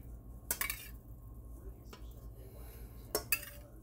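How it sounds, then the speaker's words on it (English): Spinach, onions and peppers tip into an omelet pan with a few clinks and knocks of utensil against pan, quiet and close, with soft scraping in between. "Then I'm going to go ahead and start putting my veggies in."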